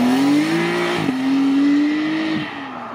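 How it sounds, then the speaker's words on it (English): A supercar leaves the runway at Supercar Fest 2022, its engine droning loudly and rising in pitch with a brief gearchange dip, close by for about three seconds before easing slightly. "So watching some cars leave now because some of them are leaving already."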